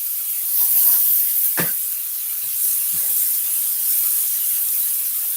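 Steak sizzling on a cast iron grill griddle gives a steady, fairly loud hiss throughout, with a few brief soft knocks and one sharper clatter as the meat is turned; no one speaks.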